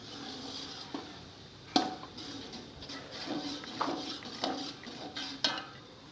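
Cooked zarda mutanjan sweet rice being spooned from a metal pan into a serving pot, with scattered light clinks and scrapes of a spoon against metal, close and moderately quiet, without talk.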